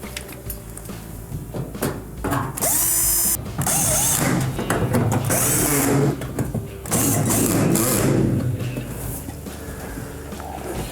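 Final screws driven into the top panel of a Maytag dryer during a repair, a loud whirring power driver running in several long bursts with brief pauses and clatter between them.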